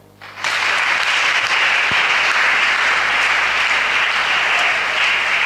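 A church congregation bursts into loud, dense applause after a brief quiet start, holding steady and full throughout the clip.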